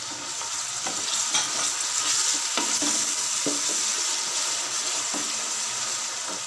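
Garlic ginger paste and chopped onion frying in a pan, a continuous close sizzle and hiss with the scraping knocks of a spoon stirring every second or so, no voices.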